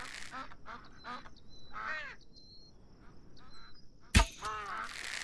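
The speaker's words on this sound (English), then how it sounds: "I'm seeing a couple birds here." Birds in the Surviving Night of the Dead video game give several harsh, cawing calls in irregular bursts at a moderate distance, followed by a sharp loud crack near the end.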